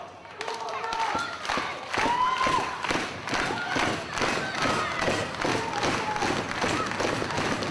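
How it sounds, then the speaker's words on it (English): A wrestling crowd at the start of a four-way contest claps and cheers, with thumps and rhythmic applause under a loud, steady roar, and voices shouting throughout. "The crowd ready to make a bit of noise at the beginning of this four-way contest"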